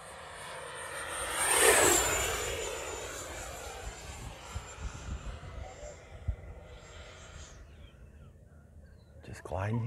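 An E-flite F-16 Falcon 80mm RC jet makes a full speed pass with the wind, its loud rising whine peaking near and then fading into the distance, with outdoor breeze and light wind noise left behind.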